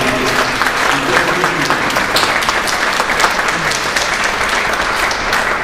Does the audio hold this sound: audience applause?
yes